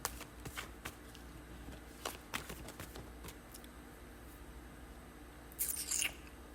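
Tarot cards are shuffled in soft, irregular riffles and taps. Crisper snapping flicks come near the end, with quiet room tone between.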